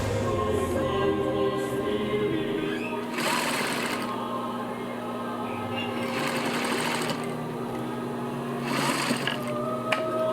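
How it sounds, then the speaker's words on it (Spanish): A professional sewing machine stitches fabric in a steady, continuous mechanical whir with brief surges in speed, running close and loud while a voice speaks over it. "Con una máquina de coser profesional"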